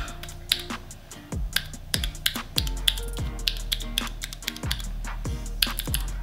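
Clicky blue mechanical keyboard switches are pressed in sharp, separate clacks, roughly a dozen crisp clicks at an uneven pace, close and dry with no talking.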